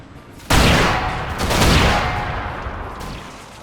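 Cannon volley fired in Empire Total War, a sudden loud blast followed by a rolling crackle of overlapping shots and a long fading rumble, with no talk.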